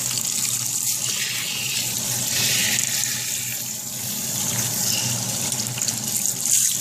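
Cool tap water runs steadily into a sink while a U-part wig on a styrofoam head is rinsed, a close, continuous gushing and splashing with slight shifts in flow.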